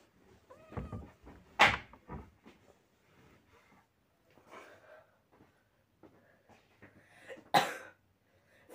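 Coughing from a person with a cough, two sharp broadband bursts standing out from quieter rustling and murmurs, one early and one near the end, fairly close and moderately loud.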